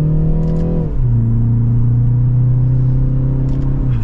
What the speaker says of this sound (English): And just a light acceleration, we're up to speed.